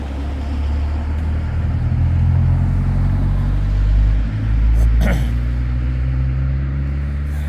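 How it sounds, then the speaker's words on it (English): Steady road traffic circles a roundabout at night, a continuous loud low rumble of car engines with swells as vehicles pass close by, no talking. "the traffic's not dying down yet"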